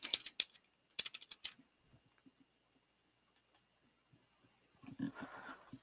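Quick bursts of keystrokes on a computer keyboard as a role name, top secret, is typed into SharePoint security settings; the clacks come in clusters near the start, then fall quiet apart from faint sounds.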